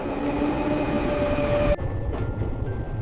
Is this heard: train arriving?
yes